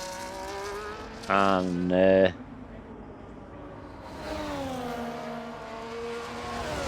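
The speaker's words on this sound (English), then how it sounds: "Sauber coming down that back straight" A Sauber race car in a racing video game screams past on the back straight at the Shanghai circuit, a loud brief engine whine with sharp harmonic tones, followed by fainter engine drone as a commentator talks.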